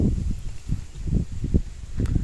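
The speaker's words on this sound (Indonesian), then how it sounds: "Di sini tuh kondisinya banyak angin karena saya di tengah sawah seperti ini ya." Wind gusts buffet the microphone outdoors in the middle of a rice field during harvest season, making irregular low rumbling thumps and rustles with no one speaking.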